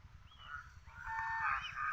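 Geese with their goslings on a river give a continuous run of nasal honks, moderately close and overlapping, over a low background rumble.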